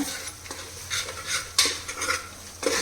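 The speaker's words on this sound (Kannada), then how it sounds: "ಎಣ್ಣೆಯಲ್ಲಿ ಚೆನ್ನಾಗಿ ಶುಂಠಿ ಬೆಳ್ಳುಳ್ಳಿ ಪೇಸ್ಟು ಹಸಿ ವಾಸನೆ ಹೋಗೋರ್ಗೂ ಫ್ರೈ ಮಾಡ್ಕೊಳ್ಳೋಣ" Ginger-garlic paste frying in oil for an elephant foot yam stir-fry while a spoon scrapes and stirs the pan in repeated strokes, rhythmic metallic scraping over a light sizzle, close and fairly loud, no talking.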